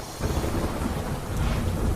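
Heavy downpour under dark, dense clouds over rural Gujarat, a steady, loud roar of rain with low rumbling thunder woven through it, continuous for the whole stretch with no voices.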